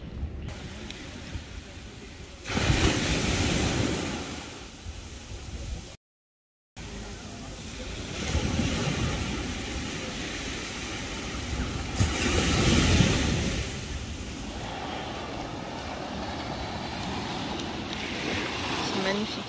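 Waves break and wash ashore at Les Salines beach in Martinique, surging in broad swells of surf mixed with wind noise, moderately loud and rising and falling over the stretch.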